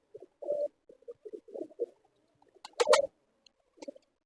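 Pigeons on a rooftop where grain is scattered make soft, throaty cooing calls in short bursts, with a louder flurry of wing flutter or scuffling midway, heard nearby against an otherwise quiet background.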